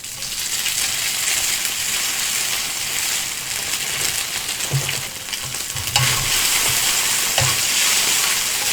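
Minced fresh garlic sizzles and fries in a very hot, lightly smoking pan on a camping stove, a steady loud crackle throughout with occasional stirring scrapes and clinks, no voices.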